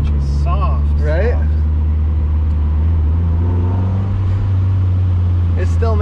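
A revived Mazda Miata engine runs rough and noisy on its first drive after being abandoned, a steady loud drone throughout with people talking over it.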